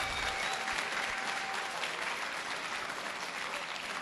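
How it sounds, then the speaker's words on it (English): Steady, dense applause from a large crowd at a Street Fighter V Arcade Edition fighting game tournament, Texas Showdown 2018, continuous and fairly loud for the whole stretch with no break. "So I want a big round of applause for that. Give him a hand."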